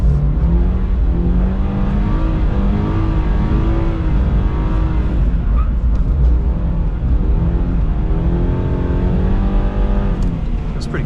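A 2022 Subaru BRZ engine revs hard and steadily while the car drifts with traction control off, its rising and falling harmonics loud and continuous throughout with no speech.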